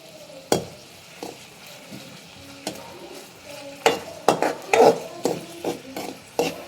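Onions frying and being stirred in a pan: a steady low sizzle under repeated scraping, clattering stirs from a spoon, growing busier toward the end, with no talking.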